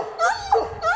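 A hunting hound whimpers close by, three short whining yelps in quick succession within about a second.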